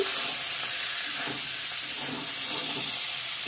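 Water splashed into a hot pan of cooking meat sets off a steady, close hiss of steam and sizzle that holds evenly for a few seconds.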